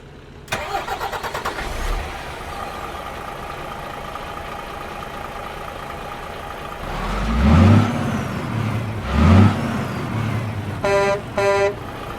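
A video game truck with a Paccar engine and an Ultra Shift transmission cranks and fires up, then settles into a steady diesel idle. Two loud revs swell partway through, followed by short electronic beeps near the end.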